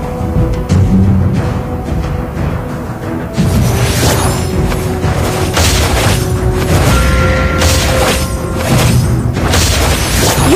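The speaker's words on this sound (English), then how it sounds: "Your team destroyed a turret!" Turret destruction in the Mobile Legends video game: a dense, loud barrage of booming impacts and crashing bursts over continuous game music and effects, with no pauses.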